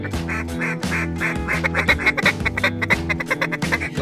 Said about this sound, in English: Oh my goodness, look at all these birds